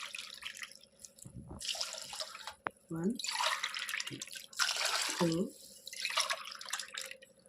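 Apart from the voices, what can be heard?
pouring water into pot for coconut rice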